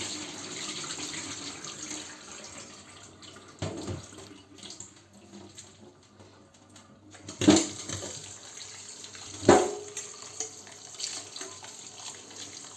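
Cold tap water runs steadily into a kitchen sink as cooked food is rinsed to cool it, a continuous hiss with two sharper splashes and clatters partway through, close and without talk.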